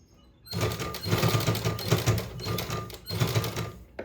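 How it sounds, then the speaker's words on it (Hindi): A sewing machine stitches piping onto a blouse, starting after a short pause with a loud rapid mechanical rattle that runs in two bursts separated by a brief stop. "और इस तरह से हाथ फेरते रहेंगे और धीरे धीरे सिलाइयाँ लगाएंगे"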